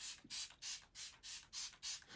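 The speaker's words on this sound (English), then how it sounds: "So I'm going in one more time with my setting spray just before highlight" Makeup setting spray misted onto a face, heard as about seven quick, evenly spaced bursts of close, airy hiss with short gaps between them and no talking.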